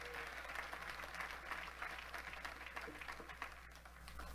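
A church congregation applauding during a Spanish-language sermon, a faint, steady wash of clapping heard from a distance over a low constant hum, with a voice faintly beneath it.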